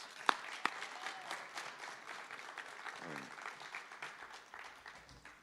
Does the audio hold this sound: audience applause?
yes